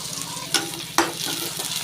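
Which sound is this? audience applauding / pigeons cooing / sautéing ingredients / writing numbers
sautéing ingredients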